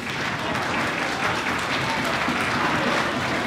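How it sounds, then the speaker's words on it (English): A crowd at a wrestling show clapping hands, dense continuous applause filling the space at steady loudness from start to finish. "I want everyone as well to start clapping their hands"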